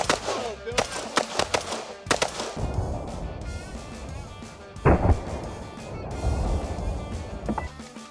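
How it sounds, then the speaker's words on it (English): Rapid gunfire sends rounds downrange outdoors as several shooters compete, with bursts of loud sharp shots in quick succession followed by scattered single reports against a rumbling background. "We will flip it off of safe and proceed to make rounds downrange."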